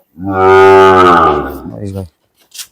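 A Sahiwal bull calf at a cattle market gives one loud, close, drawn-out moo that lasts about two seconds before it cuts off.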